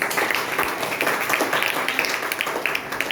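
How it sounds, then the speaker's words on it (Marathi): An audience at a parenting workshop in an international school in Chhatrapati Sambhajinagar applauds for students of classes 8 to 10, a dense, steady patter of many hands clapping, moderately loud and continuous throughout. "8वी ते 10वी आहेत 1-2 त्यांच्यासाठी पण टाळ्या"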